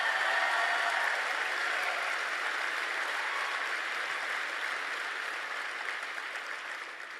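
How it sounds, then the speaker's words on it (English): Crowd applause at a university speaking event fills the space as a continuous, moderately distant wash of clapping that tapers gradually toward the end, with no talking heard. "Why don't you guys go ahead and round of applause for yourself?"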